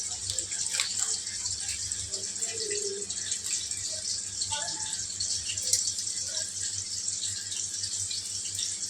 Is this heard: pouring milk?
yes